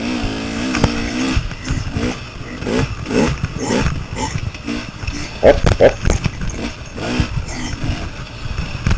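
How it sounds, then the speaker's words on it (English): A 250 two-stroke enduro motorcycle engine riding through roots at a Cajun Classic enduro, revving and surging unevenly with bumps and knocks from the rough ground, heard close from the rider's position. "You can tell how narrow that 250 two-stroke engine is."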